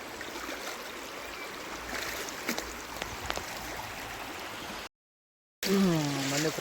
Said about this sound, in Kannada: ನೀರು ಚೆನ್ನಾಗಿ ಹರಿತೈತೆ ಇಲ್ಲಿ